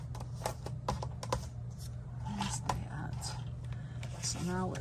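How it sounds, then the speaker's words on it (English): Scissors or a paper trimmer cut a stamped paper border strip down to one inch, giving a series of close, dry clicks and slicing sounds alongside faint voice-like murmurs and a steady background hum. "We're going to trim this one down to 1 inch."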